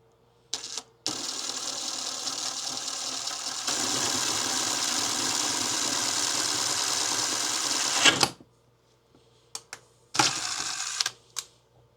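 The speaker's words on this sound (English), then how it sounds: "we're just gonna drill our pilot holes" A drill bores pilot holes in muzzleloader parts, whirring steadily at close range in a long sustained run of several seconds, with brief start-and-stop bursts before and after.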